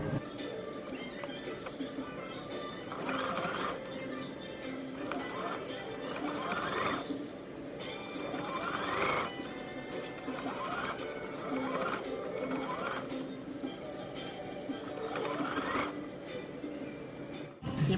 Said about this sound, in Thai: จากนั้นเดี๋ยวเราจะมาเย็บโดยรอบนะคะ